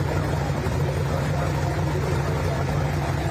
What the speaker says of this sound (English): we'll run Scott Kiskadden here with the Bleeding Blue mod turbo tractor